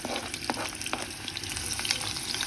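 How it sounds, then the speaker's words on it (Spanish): Onion frying in a pan over medium heat, a steady close crackling sizzle with small pops, no voices. "Pongo a freír la cebolla hasta que esté tierna, no muy cocida."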